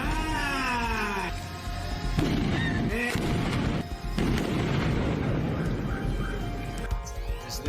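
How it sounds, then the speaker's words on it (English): A large practical explosion set off behind performers during filming, a loud deep boom with rumbling tail, amid music, tonal sweeps and other layered sounds. "That was an actual explosion behind them."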